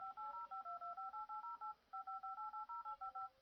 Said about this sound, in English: those are the dial tones.